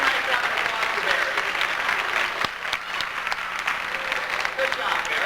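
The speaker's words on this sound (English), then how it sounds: "How about a nice round of applause for Barry?" Steady audience applause at a zoo animal show, a dense wash of clapping from a crowd that holds evenly for several seconds with no voices over it.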